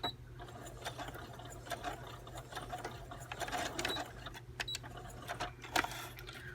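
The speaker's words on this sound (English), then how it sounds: "It's a pretty good little sewing machine" A small home sewing machine runs steadily with a rapid, even mechanical stitching rhythm and a low motor hum, close by and fairly quiet.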